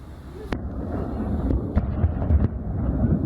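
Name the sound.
rocket explosions in Kabul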